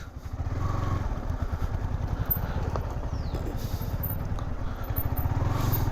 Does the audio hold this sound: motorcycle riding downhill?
yes